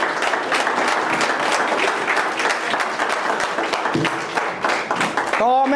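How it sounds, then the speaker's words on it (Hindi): Loud, dense applause from a seminar audience at a motivational speech, steady clapping filling the room for several seconds with a few voices mixed in near the end. "जोरदार तालियां प्लीज।"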